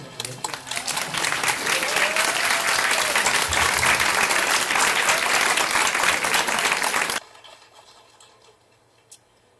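An audience at a philosophy lecture gives a sustained burst of many-handed clapping that swells up, holds loud for several seconds, then cuts off abruptly into quiet room tone with a faint knock near the end.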